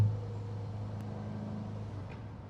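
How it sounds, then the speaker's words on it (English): ESS supercharged Corvette C7 V8 idling low with a steady deep exhaust drone and a faint blip near the middle, continuous and fairly close, no talk. "Little downshift action."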